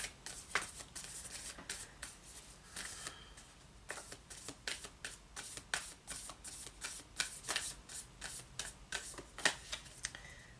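A deck of Angels and Ancestors oracle cards is shuffled by hand up close, a run of crisp, quick riffling bursts and soft card slaps repeating steadily for several seconds.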